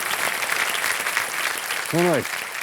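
A studio audience on a televised quiz show applauds to welcome guests, with steady clapping throughout and a voice briefly sounding over it partway through.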